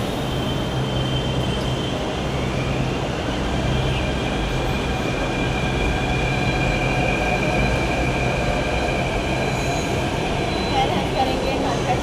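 A Delhi metro train rumbles steadily nearby, with a continuous roar and faint high-pitched wheel whine running throughout.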